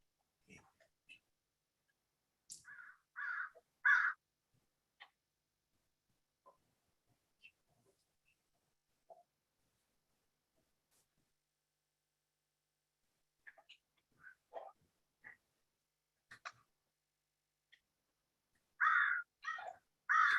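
Crows caw outside in short bursts, a cluster of harsh calls early and another near the end, with quiet gaps and faint murmuring voices between.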